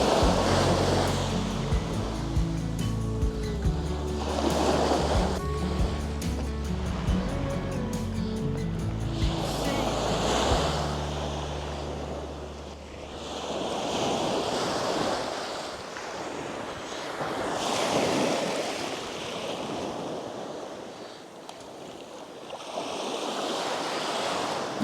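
Incoming tide waves at St Mary's Bay beach in Brixham, Devon, as a broad steady surf wash rising and falling in slow swells, with wind buffeting the microphone and a louder low rumble in the first half.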